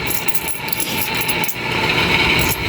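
Coins from an opened piggy bank being counted, a steady stream of small metallic clinks and jingles close by, continuous throughout with no talking.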